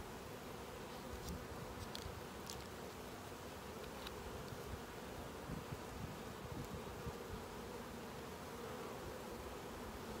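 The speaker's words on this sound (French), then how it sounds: "Cette ruche-là est un petit peu plus petite, environ un 6 cadres d'abeilles." Dense, steady buzzing of many honey bees around a small six-frame hive, close and continuous, with brief sharper buzzes as individual bees fly past.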